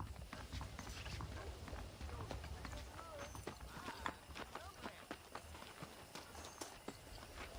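Horse hooves clip-clop in the Red Dead Redemption western video game, a faint steady run of hoofbeats with soft mechanical clatter and a possible whinny underneath.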